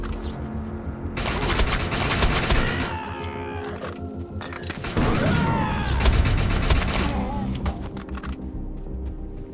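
Gunfire in the Defiance 2050 video game: dense bursts of rapid automatic shots with mechanical weapon clatter, loud and close, continuing across most of the stretch with brief lulls between volleys.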